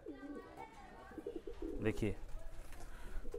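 Pigeons coo softly in the background while someone talks over them, the low calls blending under his voice.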